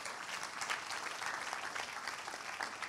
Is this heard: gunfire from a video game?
no